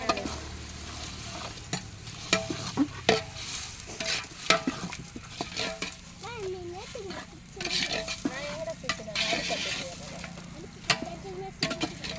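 Tomatoes and onions with salt sauté in a pan for homemade chicken biryani, a spoon clattering and scraping repeatedly through the sizzle, close by, with a voice talking at times.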